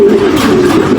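Racing pigeons coo softly in a breeding loft, a close, low, rolling murmur that runs steadily under a faint background hiss.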